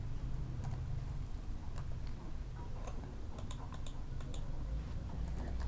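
Someone types code on a computer keyboard, producing a close run of light, uneven key clicks over a low steady hum of the room.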